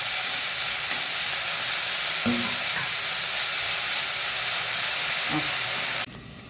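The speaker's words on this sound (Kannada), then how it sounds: "ಅದರದ್ದು ಹಸಿ ವಾಸನೆ ಹೋಗುವ ತನಕ ಸ್ವಲ್ಪ ಚೆನ್ನಾಗಿ ಫ್ರೈ ಮಾಡ್ಕೊಳ್ಳೋಣ" Dill leaves fry in a pan with a continuous, close hiss and sizzle, broken by a couple of soft clinks of stirring before the sound drops away at the end.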